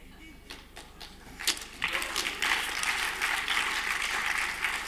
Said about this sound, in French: Faut applaudir le public.